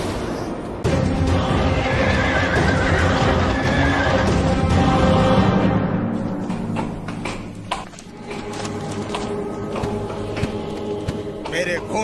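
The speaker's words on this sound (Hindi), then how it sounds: "ये राजा रतन सिंह का अश्वमेध का घोड़ा है।" A horse, a royal Ashvamedha sacrificial horse, gives a loud, drawn-out whinny, followed by hoof clatter and scattered taps, with people talking over part of it.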